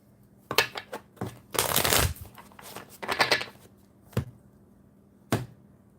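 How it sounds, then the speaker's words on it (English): A deck of cards is shuffled in several crisp riffle bursts, with a long riffle and bridge in the middle and a few sharp single taps, close and clear with no speech. "I'm going to shuffle them up a couple more times and then cut them again."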